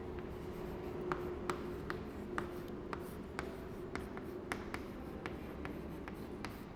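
Pen or pencil writing numbers by hand, steady light strokes and taps repeating at an even pace, close and quiet over a low background hum.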